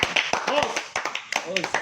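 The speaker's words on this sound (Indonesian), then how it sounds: "Tepuk tangan dulu." A few people clapping in quick, uneven bursts, close by, at a talk session with a film's cast, mixed with voices talking over the applause.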